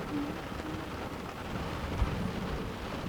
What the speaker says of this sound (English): So the rain is really slowing down.